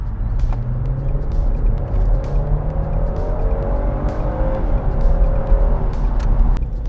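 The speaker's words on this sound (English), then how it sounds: "I'm going to put the foot down, Dave." A Mercedes-Benz E400 Cabriolet engine accelerates steadily, its low rumble rising in pitch over several seconds, with road and wind noise throughout.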